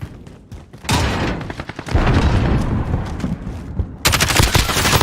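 An explosive grenade goes off in the game Honkai Impact 3rd, played as Murata Himeko, with bursts of loud rapid blasts and gunfire-like crackle running almost continuously, close and heavy.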